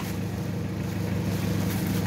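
A newly replaced electric fan motor runs with a steady, even whirring hum and broad airy noise, continuous and close for the whole stretch, with no speech over it.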